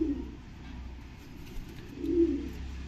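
Pigeons kept in a loft, a Madrasi breed pair with a crested male and a female, give low cooing in two soft bursts near the start and end, close by, with no talk over them.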